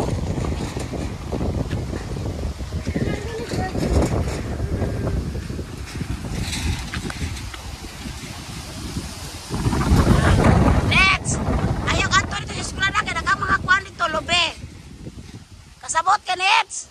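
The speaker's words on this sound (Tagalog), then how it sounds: "lakas ng hangin" Strong wind gusts roar and buffet the microphone outdoors near a school, broadband rumble rising sharply midway, while people talk throughout.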